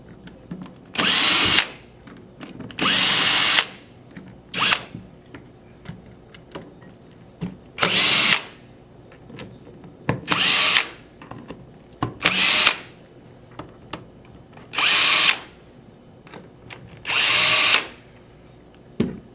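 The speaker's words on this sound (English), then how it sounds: "we're just going to loosen up the tank adapter bolts and all the other bolts that hold the receiver on" Power tool loosening the tank adapter and receiver bolts on a US Army Project Salvo paintball marker, about eight loud whirring bursts of a second or so each, separated by quieter handling noises, close by.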